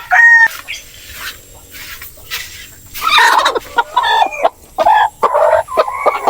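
Native chickens kept on a backyard farm cluck and squawk in bursts, loud and close, with busier overlapping calls in the second half and no talking.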